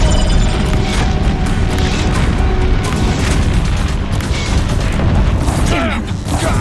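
Deathbringer machines pound a bridge in Horizon Zero Dawn with loud, continuous booming fire and crashing impacts, a dense barrage from start to finish with voices in the mix.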